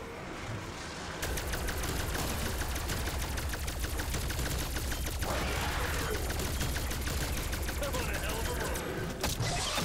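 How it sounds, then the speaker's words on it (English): Rapid strafing gunfire in a video game, a dense stream of fast repeated shots that runs steadily and loudly for most of the stretch, with a voice talking over it. "Strafing shots, strafing shots."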